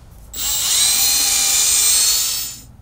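A high-pitched power sander whirs steadily on a Toyota Sequoia headlight lens for about two seconds, starting and stopping abruptly.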